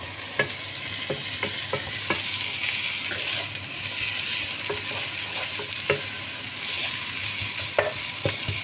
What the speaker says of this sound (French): On fait ça avec la cuillère à bois pour éviter de râper